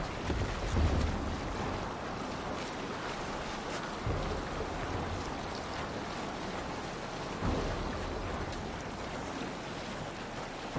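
A ship sailing on the sea in Assassin's Creed Valhalla, with continuous wind and waves washing around the hull, a steady, full rush of water and air throughout with a couple of heavier surges.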